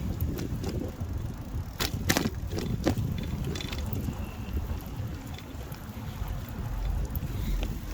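Wind roars and buffets the microphone steadily while riding a bicycle with front suspension and a suspension seat post, a loud continuous rumble with a few sharp gusts and knocks.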